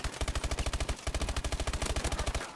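Rapid automatic gunfire from hipfiring a weapon in Call of Duty Advanced Warfare, a steady fast string of punchy shots with a brief pause midway, loud and continuous.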